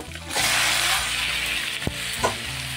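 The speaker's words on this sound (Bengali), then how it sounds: "তো এবার পাস্তাগুলিকে দিয়ে সুন্দর করে মিশিয়ে নিচ্ছি" Pasta is stirred and tossed in a frying pan with masala, giving a steady sizzle with scraping and clanking of the spoon against the pan, close and fairly loud, with no talking.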